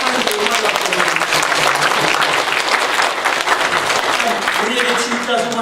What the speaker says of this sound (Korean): 우리 박수 한번 하면서